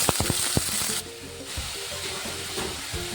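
Onion paste and whole spices such as cumin and bay leaf frying in hot oil for an egg curry, giving a steady close sizzle with a few sharp pops at the start and a brief dip partway through.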